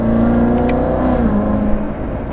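Corvette Z06 engine revving under acceleration, loud and close, a sustained tonal drone with a brief pitch drop midway as the paddle upshift goes through, then pulling steadily on.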